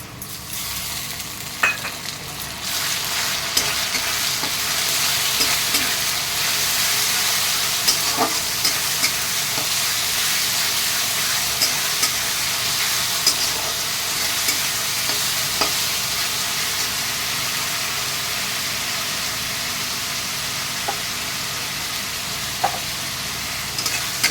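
Onion paste sizzles steadily in a hot pan, frying as the base for a dry chicken kosha made without water, with occasional faint stirring taps over the continuous hiss.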